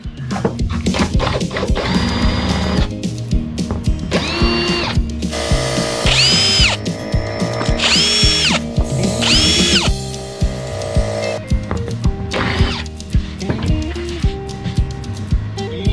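An electric drill runs in repeated short bursts while salvaging parts from a wrecked boat, rising to a high whine several times, with clicking and handling noise between.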